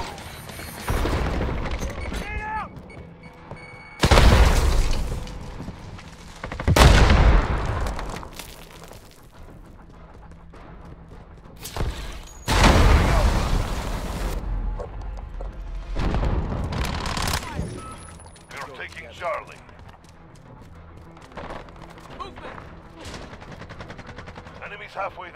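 Bursts of gunfire and explosions from the Call of Duty Modern Warfare video game, loud sharp volleys recurring every few seconds over a background of game noise, with a few faint voices.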